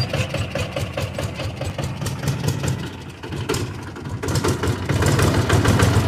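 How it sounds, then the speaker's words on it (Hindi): A tractor engine, cold and faulty, runs with a heavy, rumbling idle, then the revs climb and hold louder toward the end, close up without speech. "अभी मतलब इंजन थोड़ा ठंडा हो गया है तो रेस बना रहे हैं।"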